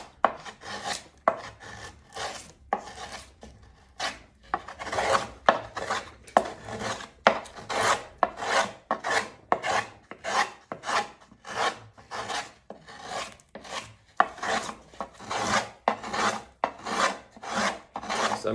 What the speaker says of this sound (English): So I'm just gonna start carving.